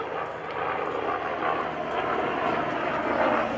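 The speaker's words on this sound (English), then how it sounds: "he's flying this BO-105 Bull Cow helicopter that he calls the Bull Cow" A BO-105 helicopter flies a Red Bull aerobatic display at a 2012 military open house air show, producing a loud, steady rotor and engine roar that swells slightly and carries no voices.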